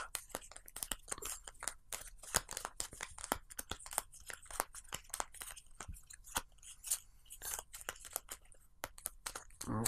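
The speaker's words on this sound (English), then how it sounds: "And shuffle these up." Board game cards for the Bloodborne board game being shuffled: a long run of dense, crisp riffling and flicking close by, with no voices.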